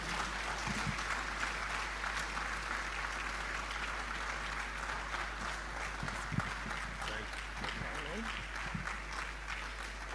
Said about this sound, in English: Distinguished ladies and gentlemen, a round of applause for Professor Ernest Aite.